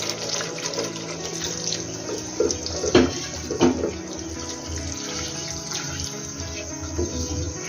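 Spice-rinsing water poured into a pan of prawn masala for a yogurt prawn curry, a steady close splashing trickle with a couple of louder splashes midway.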